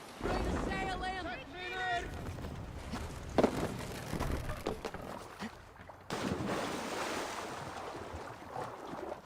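Viking longship under sail in Assassin's Creed Valhalla, gliding over open water with steady wave wash, wind and creaking hull noise, a voice talking early on over the constant rush.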